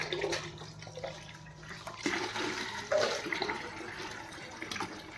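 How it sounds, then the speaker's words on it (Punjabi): Water gushes and splashes steadily into a bucket, about 10 to 12 litres, a continuous rushing pour with a few louder surges, no voices. "ਤਕਰੀਬਨ ਆਪਾਂ ਬਾਲਟੀ ਇਹ ਭਰ ਦਾਂਗੇ ਪਾਣੀ ਨਾਲ"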